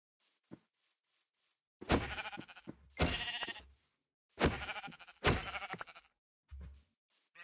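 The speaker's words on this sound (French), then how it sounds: "Il y a plein de moutons ici." Sheep bleating in a video game, several drawn-out wavering bleats in separate bursts with short quiet gaps between, clear and close.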